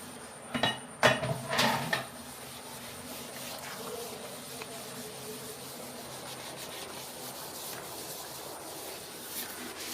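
Kitchen utensils are washed close by, with a few clattering knocks of metal and dishes near the start, then quieter rubbing and running water through the rest, with no talk.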